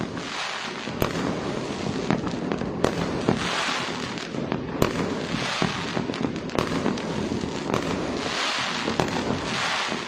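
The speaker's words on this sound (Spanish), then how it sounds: "Pirotécnicos por todos lados llenando de explosiones una calmada noche de verano." Fireworks and firecrackers burst everywhere at midnight on New Year's on a calm summer night: a dense, continuous crackle of overlapping explosions with sharper loud bangs popping out every second or so.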